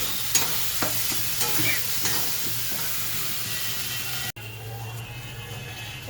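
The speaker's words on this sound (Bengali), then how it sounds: "জিরের গুঁড়ো, দিয়ে নাড়াচাড়া করতে হবে।" Cumin powder and salt stirred through vegetables frying in a pan, with a steady sizzle and scraping strokes of a spoon. A brief break occurs near the end before the sizzling resumes.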